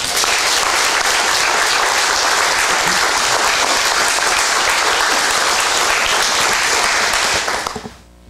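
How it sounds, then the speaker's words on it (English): A school audience breaks into loud, dense applause for a student athlete, a sustained roar of many clapping hands that cuts off sharply at the end. "let's give a warm round of applause to Skylie Zolman."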